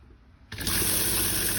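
A camper's simple water system tap opens abruptly after a moment of quiet, releasing a strong, steady gush of running water close by.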